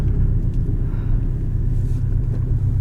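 Porsche 718 Cayman S flat-four engine under way in a 2018 manual car, a steady, loud low rumble of engine and road noise heard from inside the cabin with no talking.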